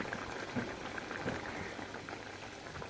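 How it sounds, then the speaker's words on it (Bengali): A fish and vegetable curry with small carp bubbles in a pot on high flame, a soft, steady, fairly faint bubbling and popping with no voices. "প্রথমে হাই ফ্লেমে এটাকে খুব ভালো করে ফুটিয়ে নিতে হবে"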